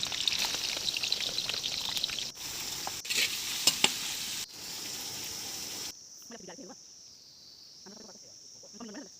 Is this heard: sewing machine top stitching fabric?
no